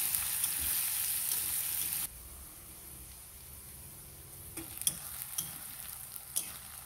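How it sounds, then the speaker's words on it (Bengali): Chopped onions frying in a pan for a raw jackfruit and prawn dish, a steady sizzle that drops quieter partway through, followed by scattered scraping and tapping as they are stirred close by, no talking. "এখন আমি পেঁয়াজ কুচিগুলো এর মধ্যে দিয়ে দেবো। পেঁয়াজগুলোকে ব্রাউন করে ভেজে নেব।"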